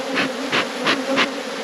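Honey bees buzz steadily at an opened hive in an apiary, a continuous droning hum that swells in several soft pulses as the insects fly close past, with no talking.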